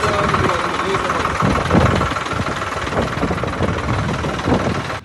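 A VST Shakti 50 HP tractor engine runs at a steady, loud idle with a rough, knocking rumble and vibration close by, continuing without pause.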